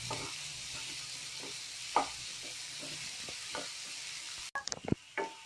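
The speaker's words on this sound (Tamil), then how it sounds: "வெங்காயத்தை சேர்த்துக்கலாம். இது நல்லா வதங்கினாங்க, கோல்டன் கலர் ஆகணும்." Onions sauté in a hot pan for restaurant-style fish fried rice, with a continuous close sizzle, a few spatula stirs, and a louder burst of scraping near the end.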